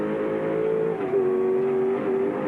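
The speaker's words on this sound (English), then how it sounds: "Now you'll hear the engine going over the brow." A race car engine at Calder Park in 1995 drones at a steady high pitch over a brow, dipping briefly then settling lower as it carries on, loud and continuous with no talk.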